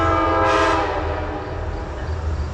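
Metro-North train 1868 led by New Haven P32 ACDM 229 arriving at Merritt 7 station, its horn blowing loudly over the low rumble of the locomotive.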